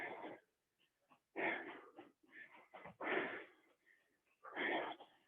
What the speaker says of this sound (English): I definitely hear these guys breathing.